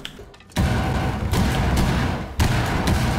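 A loud explosion blasts out a hallway in Rainbow Six Siege gameplay, a sudden heavy roar of rumbling debris that sustains, followed by a second surge of blast noise.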